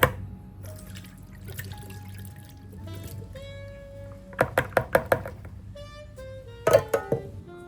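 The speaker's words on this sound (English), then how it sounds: "take 2 cans of pineapple chunks, and I'm going to drain them because I want to save the juice that comes out of this" Canned pineapple chunks drained for their juice, with knocks and clunks of a can and utensils, a soft pouring trickle, and bursts of sharp taps and thuds toward the end; nearby and fairly quiet.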